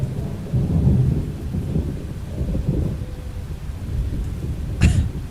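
A thunderstorm in the video game Twisted, with low rolling thunder and rain rumbling steadily, then a sharp brief crack near the end; no one talks.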